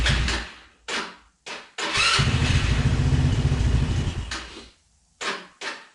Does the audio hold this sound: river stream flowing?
no